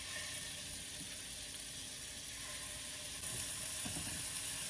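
Butter sizzling in a hot pan with meat, a steady hissing fry with small crackles and pops, close and fairly quiet, growing a little louder near the end.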